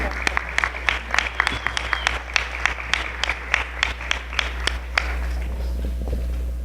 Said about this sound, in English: if we could give them all a big round of applause